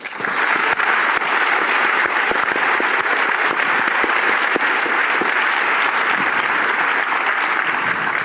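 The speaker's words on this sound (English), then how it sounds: "Let's give him a round of applause." A conference audience at an entrepreneurship panel breaks into sustained, dense applause that holds steady and loud throughout, with no voices over it.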